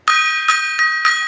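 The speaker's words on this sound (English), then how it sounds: "This is where the gong comes in." A meeting gong struck four times in steady succession, each stroke a bright, sustained metallic ring that blooms loudly and overlaps the previous one's decay, with no talking.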